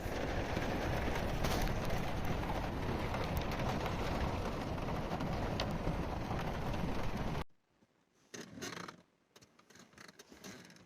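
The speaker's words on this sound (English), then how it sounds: "And it's raining." Steady rain falls during a wet day of wild camping in Belgium, a dense, loud broadband hiss that holds for about seven seconds and then cuts off, leaving quieter scattered patter and faint rustling.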